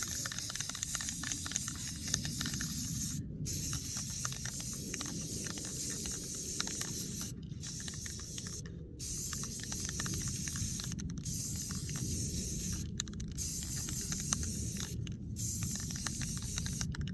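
Steady spray painting of a tumbler cup, a continuous broad hiss that runs almost unbroken for the whole stretch, with only a few very short pauses where the spray stops.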